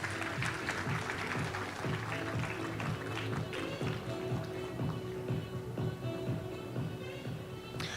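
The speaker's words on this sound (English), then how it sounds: "Ladies and gentlemen, please give a huge round of applause" A conference audience applauds as an esteemed guest is honoured at an international biotechnology event, with steady dense clapping carrying across the whole stretch at moderate distance with no voices over it.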